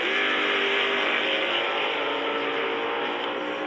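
Top Sportsman drag race cars roar down the strip in a Vortex Supercharger final, a loud sustained engine drone holding steady at high revs without pause.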